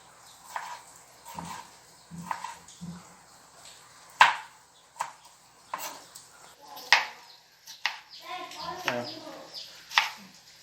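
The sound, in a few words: chopping tomatoes with a knife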